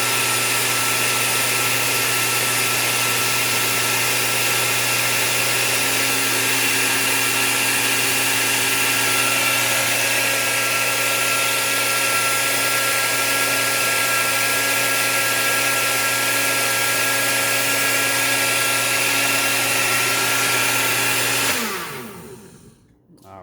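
A countertop blender purees red enchilada sauce with queso fresco nearby, running as a loud steady whir for about twenty seconds before its motor spins down abruptly to a stop.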